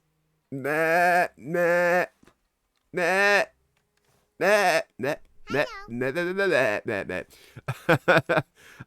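A sheep bleating sound plays as a stream alert during a Valheim livestream, a series of loud, wavering bleats near the mic with short pauses between them, the later ones quicker and choppier.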